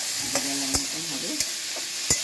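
Prawn chowmein mix with vegetables stirred and frying in a pan: a steady soft sizzle broken by several sharp scraping strokes of the spatula, close up with no talking.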